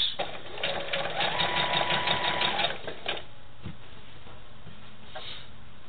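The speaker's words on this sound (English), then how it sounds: "as I'm going to sew over that crease" A sewing machine stitches sashing onto a tied quilt, a rapid mechanical whirring chatter for a few seconds that then stops, leaving quieter handling clicks and room hiss.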